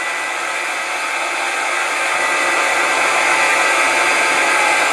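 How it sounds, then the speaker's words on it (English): A milling machine's spindle motor runs steadily at a reduced 30 hertz setting, a continuous broadband whirring hum that stays loud and even throughout. "And you hear the motor slowing down."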